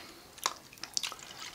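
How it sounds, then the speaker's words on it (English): Bubbles blown through a straw into a glass of seltzer-like soda, a few close, quiet gurgling pops and drips in short irregular bursts. "I wanna blow bubbles now."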